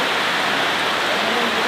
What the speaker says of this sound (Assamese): এনেকুৱা ডগৰা বৰষুণ দি আছে।